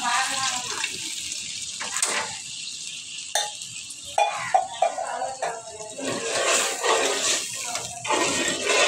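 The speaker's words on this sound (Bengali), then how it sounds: "তো আমি জল ঢেলে দিচ্ছি।" Water is poured into a hot pan of fried chili and spice paste for a Bengali fish curry, giving a steady splashing rush with a few sharper spikes and brief pauses.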